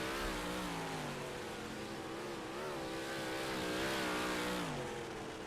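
Several race cars in a racing video game session drone steadily with rising and falling engine harmonics, a continuous layered roar of engines revving and shifting, fairly loud throughout with no talk.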